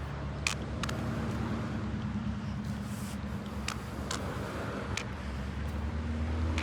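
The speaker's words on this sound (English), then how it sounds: "paying very close attention to what the cars are doing, listening to how they behave" Steady road traffic on a curbless street rumbles throughout, with cars passing at moderate distance and a continuous low engine drone.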